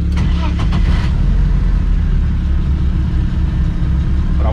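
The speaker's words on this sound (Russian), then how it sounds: "Он завелся." A turbocharged BMW M40 car engine catches and runs with a loud, steady low rumble that fills the whole stretch close up, with brief sharper bursts near the start.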